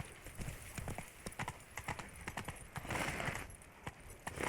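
Horse hooves clip-clopping at a steady trot in The Witcher 3 game, a brisk run of even hoofbeats set against a continuous background ambience, with no talk over them.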